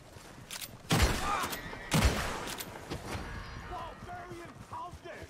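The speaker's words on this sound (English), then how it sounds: "I'm going to shoot this guy right now." Gunshots in the video game Red Dead Redemption 2: two sharp, loud shots about a second apart, each with a short decaying tail, over a steady background of game ambience.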